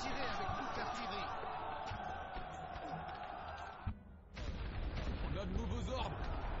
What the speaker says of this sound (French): Tirez avec toute l'artillerie.